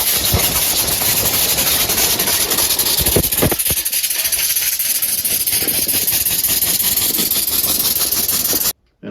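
A five-cylinder compressed air motor runs steadily with a loud, continuous hissing rush and rapid mechanical chatter, a brief louder burst partway through, then cuts off abruptly near the end.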